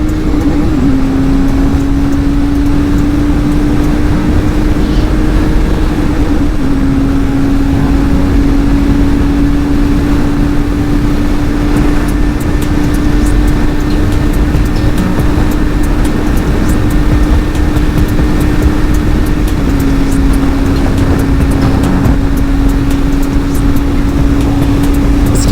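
A Benelli 502C motorcycle engine roars loud and close at high revs, holding a sustained, nearly constant whine with slight pitch shifts, buried in heavy rushing wind noise.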